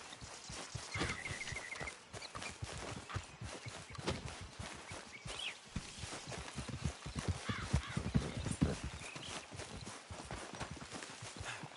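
In Red Dead Redemption 2, a horse's hooves clip-clop in a steady rhythm over open ground, with a brief whinny early on and faint outdoor ambience beneath the continuous hoofbeats.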